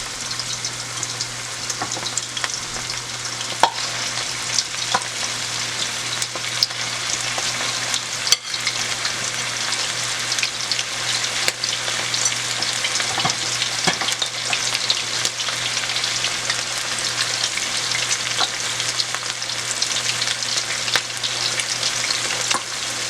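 Seasoned food fries in a pot of hot oil with a steady, close crackling sizzle and scattered sharper pops, with no talking.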